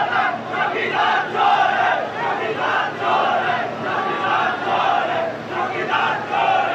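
A large crowd at a political rally shouts slogans in unison, loud rhythmic waves of massed voices swelling and falling repeatedly over the whole stretch.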